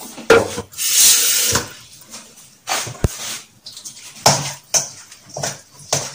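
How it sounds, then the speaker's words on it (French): Water is splashed into bread dough in a bowl, giving several short, close sloshing and pouring bursts separated by brief pauses. "Donc je vais rajouter un petit peu d'eau"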